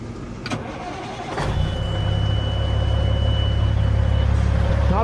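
A big rig truck's diesel engine cold-starts with a sharp crank burst, then settles into a loud, steady, rumbling idle close by.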